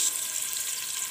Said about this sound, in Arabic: نشوحه شويه كده لحد ما يفك كده ويبقى يتحول لماده دهنيه